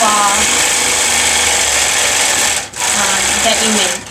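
A longarm quilting machine stitches a feather pattern with matching thread, running as a loud, steady, close mechanical hum and rapid needle clatter that dips briefly once and then carries on without a break.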